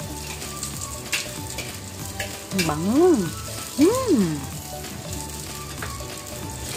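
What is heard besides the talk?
sautéing onion, garlic and ginger in a pan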